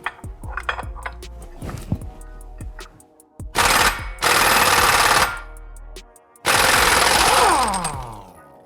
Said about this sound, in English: Easiest way is just to use an impact gun.